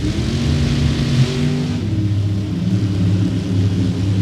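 A street-legal 1967 Camaro drag car accelerating down the strip at Topeka, a loud, sustained deep engine roar with steady rumble throughout, no talk.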